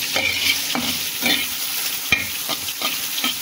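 Sliced bitter gourd and potatoes frying in a pan, a steady sizzle broken by a regular rhythm of spatula strokes scraping and stirring, close and fairly loud.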